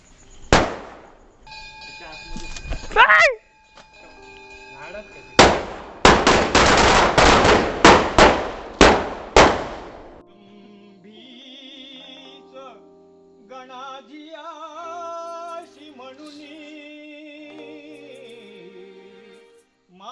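Firecrackers set off at a Tulsi wedding celebration burst in a rapid crackling string of sharp pops, loud and close, with a single bang before, then devotional singing follows.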